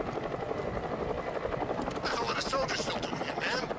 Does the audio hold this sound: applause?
no